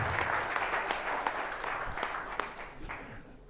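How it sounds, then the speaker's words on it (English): A crowd applauds steadily for a few seconds at an annual community meeting for Park Meadows, a dense patter of hand claps that fades slightly toward the end, with no talk over it. "big round of applause"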